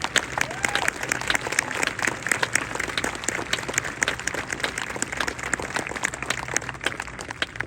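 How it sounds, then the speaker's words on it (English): Steady audience applause at a 2022 high school graduation ceremony, a dense wash of many hands clapping at once that holds evenly throughout. "Let's give them a round of applause"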